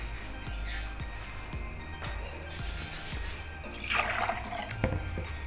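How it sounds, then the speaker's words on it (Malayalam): Water is poured into a batter for crispy mixture snacks, making a soft trickle. Irregular low thumps come and go throughout, and a louder splashing swell rises near the end. "കുറച്ചുകൂടി വെള്ളം ഒഴിക്കും."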